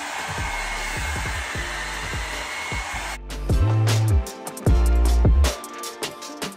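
A Revlon brush hair dryer runs on its low setting with a steady close whir, changing character midway as the brush moves through hair, with a few louder bursts of airflow.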